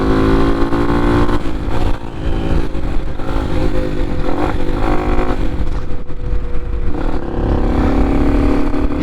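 A Hawk DLX 250 EFI dual sport motorcycle rides along a Las Vegas street, its single-cylinder engine buzzing loud and close with repeated rises and dips in revs amid wind rush and faint traffic.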